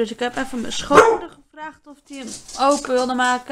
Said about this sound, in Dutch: Dat was de hond.